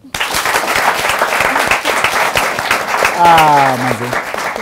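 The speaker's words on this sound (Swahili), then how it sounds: "Wapi makofi yao?" A studio audience claps for several seconds, a moderately loud patter of hands, with a brief voice rising over it near the end.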